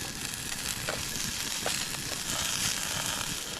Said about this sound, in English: Over here I've got steaks and asparagus cooking